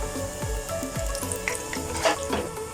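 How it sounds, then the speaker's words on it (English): Chicken cheese balls fry in hot oil with a steady, soft sizzle and bubbling that runs throughout, plus a few low knocks and light clinks from handling. No one speaks. "It will just take 1 minute to fry on each side."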